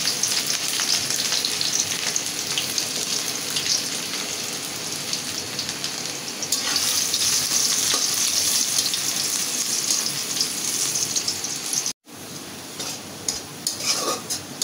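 Cumin, bay leaf, chopped onion and garlic fry in hot oil, a loud steady crackling sizzle that runs throughout, broken by a brief silent gap near the end.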